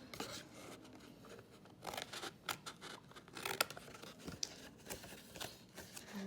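Scissors snipping through scored card for a faceted bauble, a busy run of close crisp cuts and rasping paper scrapes with steady rhythm, no talking.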